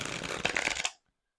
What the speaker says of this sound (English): Let me give it a shuffle.